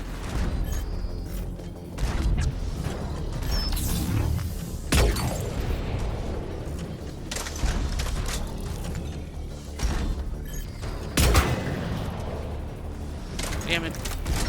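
Gunfire in Mass Effect 3 Legendary Edition on Insanity difficulty, with sharp loud bursts breaking out at irregular moments over a busy mechanical clatter, and voices faintly mixed in.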